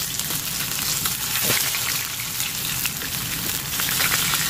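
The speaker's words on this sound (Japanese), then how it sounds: "皮をしっかり焼いてるってことですね" Chicken thigh skin sears in a frying pan with a loud, dense, continuous sizzle like heavy rain, steady and close throughout with no talking.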